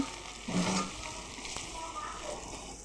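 Bottle gourd peels stir-fried with green chili, turmeric, chili powder and salt, giving a soft, steady sizzle with a light stirring knock, close but fairly quiet, with faint voice in the background.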